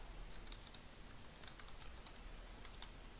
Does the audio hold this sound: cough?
no